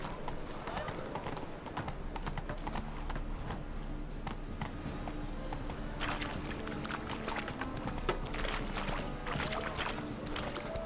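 Roach, the horse in The Witcher 3, moves at pace with a continuous, busy patter of hoofbeats and jingling tack that stays even throughout. A voice talks over it.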